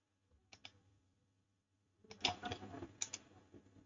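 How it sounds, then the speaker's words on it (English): A computer mouse clicks on a Windows PC, a couple of faint single clicks followed by a quick cluster of louder close clicks and taps, with no voice. "right click on this"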